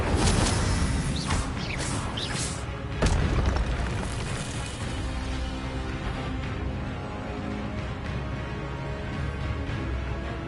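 A Harry Potter Incendio fire spell goes off with a loud booming burst and whoosh, then settles into a sustained roaring, crackling rumble that fades slightly over several seconds, with no voices.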